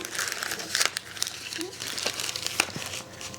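Gift wrapping holding Kit Kat bars and paper cash being folded, crisp crinkling and rustling of paper close by, with a voice talking over it.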